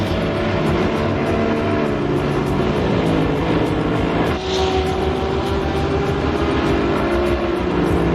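Loud GT3 race car engines in a racing video game at Spa roar continuously, whining at high revs with a shifting pitch as cars pass, no talking.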